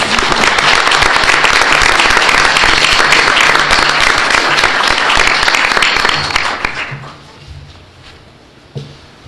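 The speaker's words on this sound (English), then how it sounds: "Could you please have a big applause for all the students?" An audience at a school board meeting gives the students a big round of applause, a loud, full clapping for about six seconds that fades away, leaving room noise and a soft thump.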